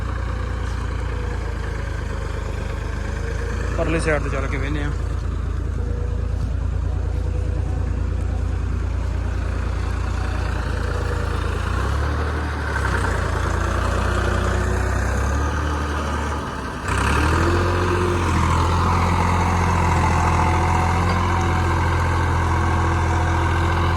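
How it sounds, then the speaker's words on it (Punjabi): A heavy tractor engine drones loudly and continuously at full power, smoking, its low rumble steady throughout, with a brief spoken line partway through. "ਪੂਰਾ ਜ਼ੋਰ ਲੱਗਣ ਦਿਆ ਟਰੈਕਟਰ ਦਾ, ਸਿਰਫ ਆਵਾਜ਼ ਔਖੀ ਹੈ ਬਸ।"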